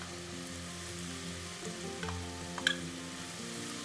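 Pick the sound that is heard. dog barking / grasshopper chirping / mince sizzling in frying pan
mince sizzling in frying pan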